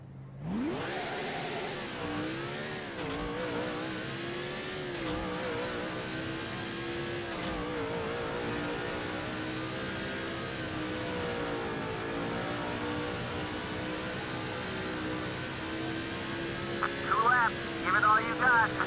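In the NASCAR 06 video game, a stock car (the 48 car) races at Bristol, its engine droning loud and continuous with pitch sweeps as it accelerates and lifts through corners, a rising whine near the end.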